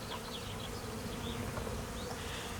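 Honeybees, dark German bees and Carnica bees, hum in a dense continuous drone around a Bavarian hive in spring, steady and close with occasional individual buzzes passing by.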